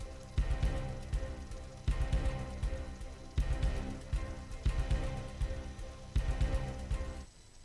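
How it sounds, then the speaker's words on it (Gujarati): Light rain begins to fall in Ahmedabad, a soft, steady patter that swells in a few louder gusts and fades off at the end. "શહેરમાં ધીમી ધારે વરસાદની શરૂઆત થઈ ગઈ છે"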